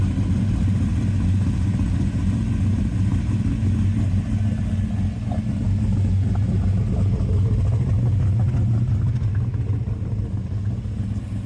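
A 1970 Chevelle SS with an LS5 454 V8 and a four-speed runs steadily nearby, its deep, loud rumble holding an even idle throughout with no talk.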